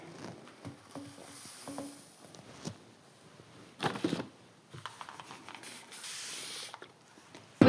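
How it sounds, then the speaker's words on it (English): A spray bottle mists perlite potting mix while a Kleinia barbertonica is being repotted, giving several short hissing sprays between quieter rustling and handling noises at close range. "I have a little spray bottle as well because the perlite could get a little"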